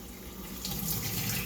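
Tap water runs steadily into a kitchen sink while vegetables are rinsed, a continuous close splashing flow that swells slightly louder partway through.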